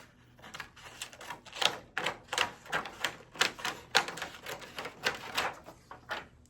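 Sharp cutting strokes through foam board and tape torn for a DIY pinball machine, a steady run of close, crisp snips and rasps repeating roughly twice a second with no talking.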